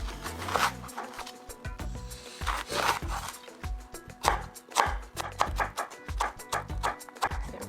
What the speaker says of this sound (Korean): 다지는 건 아니고 약간 요 정도 정도로 썰어 주시고, 고추도